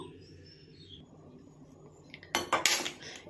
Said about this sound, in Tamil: இப்போ இங்கே பாத்திரம் வச்சுருவோம்